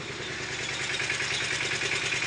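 A tractor engine running to pressure-pump water, a steady droning motor close by with an even mechanical pulse and no breaks.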